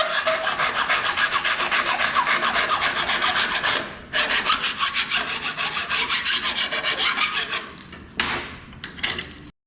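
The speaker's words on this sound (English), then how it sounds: "then I take a finer file and do the same thing" A fine metal file scrapes a metal edge in steady back-and-forth rasping strokes, close and fairly loud, pausing briefly twice before a few short final strokes.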